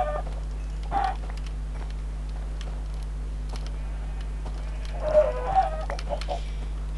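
Video game chickens cluck in a few short bursts over a steady electronic hum, faint and spaced apart, with no talking.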